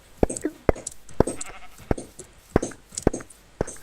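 Sheep in the Tekkit modpack game bleat repeatedly, about seven short, sharp calls in a fairly even rhythm, close and clear with little else around them.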